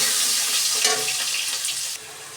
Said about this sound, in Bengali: আলুগুলোকে একটু লাল করে ভেজে নেব